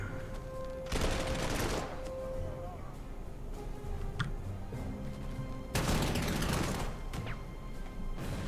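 Grenadier infantry trading gunfire in the strategy game Panzer Corps 2, during the 1940 Operation Sea Lion campaign: two loud bursts of rapid rifle and machine-gun fire, separated by a lull of quieter battlefield rumble.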